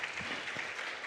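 An audience at a talk about refugees and migrants applauds with soft, even clapping that sounds somewhat distant and fills the moment without any talk.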